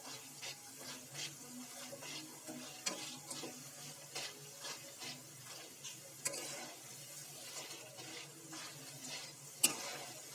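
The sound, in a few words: boondi frying and being stirred in hot oil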